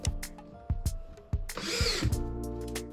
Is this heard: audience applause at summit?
no